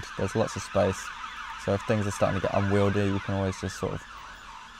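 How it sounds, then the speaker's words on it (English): Emergency vehicle sirens wail outside in repeated rising and falling bursts, fairly loud and close, while a person keeps talking over them indoors. "sorry for the sirens again"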